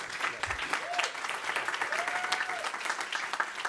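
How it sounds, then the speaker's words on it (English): Audience applause at a talk on decriminalizing mental illness, a soft, steady wash of clapping from a crowd, fairly distant, with a brief tonal squeak sounding over it. "Round of applause for her"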